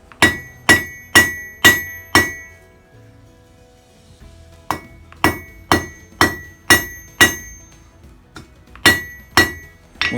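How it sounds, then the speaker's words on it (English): Sharp metallic hammer strikes on hot steel ring out in rhythmic bursts of five or six blows, pausing briefly between runs, close and loud with bright clanging overtones. "you want to hammer the ends of the steel to bring it to a point"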